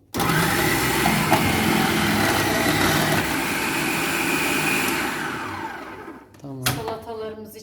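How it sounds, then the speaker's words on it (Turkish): A Siemens MK3501M food processor grates a carrot with a loud, steady motor whine and gritty shredding for about six seconds before spinning down, followed by a brief clatter. "Evet şimdi bir tane de havuç rendeleyeceğiz."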